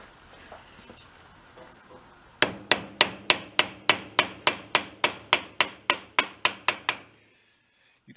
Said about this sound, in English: Let's get that started with a hammer.